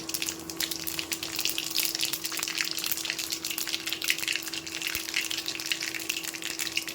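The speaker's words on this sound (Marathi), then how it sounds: "जिरे चांगले तडतडले" Cumin seeds, added after mustard seeds, splutter in hot oil in a wok. The dense, steady crackle of tiny pops stays fairly loud throughout, alongside a constant low hum.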